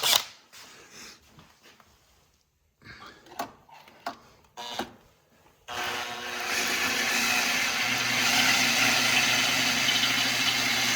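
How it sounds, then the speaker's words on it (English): A few clicks and knocks, then a power drill starts up and spins the oil pump of a Toyota FJ40's 2F engine, running with a steady whirring hum until the end. "Let's give this a spin with the drill"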